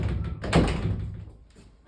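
A mudroom door is shut hard, producing one heavy thud that fades quickly into a quiet room, followed by a faint rattle.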